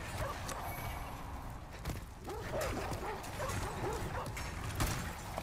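Dogs in the video game Demon's Souls bark and snarl in short, scattered bursts over a steady, busy layer of game noise, at moderate loudness.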